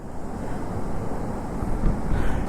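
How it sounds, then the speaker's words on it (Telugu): A Himalayan mountain river in Arunachal Pradesh rushes past in a dense, continuous roar, close and fairly loud, with wind buffeting the microphone. "మొత్తానికైతే వాటర్ ఫ్లో చాలా బాగుంది."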